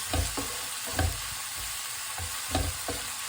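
Prawns and onions stir-fry in a wok with soy sauce, a continuous sizzle broken by regular scraping stirs and low knocks of the utensil against the pan, close and alone.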